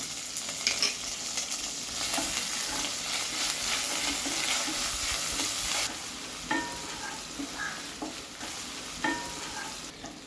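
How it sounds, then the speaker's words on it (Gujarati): Cumin, curry leaves and finely chopped green chillies sizzle and crackle steadily in hot oil for a Gujarati green corn chevdo, a constant bright frying hiss with occasional sharper pops and spoon stirs, no voices. "8 થી 10 લીલા લીમડાના પાન નાખીશું અને 5 થી 6 લીલા મરચાં આ રીતે ઝીણા સમારીને નાખવાના છે।"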